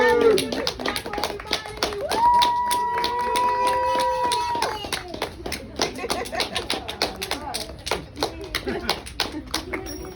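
Wedding guests clap after the couple's first kiss, with scattered hand claps and cheering under lively voices and a whoop, the clapping thinning into separate claps toward the end.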